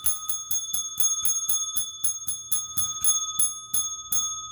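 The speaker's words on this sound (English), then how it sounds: "God damn it. Bell." A small bell rings in a quick, regular series of about fifteen bright, clear strikes, each with a ringing overtone, heard alone and fairly close.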